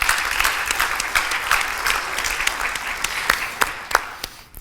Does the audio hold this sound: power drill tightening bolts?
no